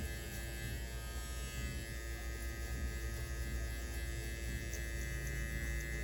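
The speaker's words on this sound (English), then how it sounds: "You hear that hair coming off." Electric hair clippers buzz steadily and close up, a constant motorized hum with faint rasping as they move through hair.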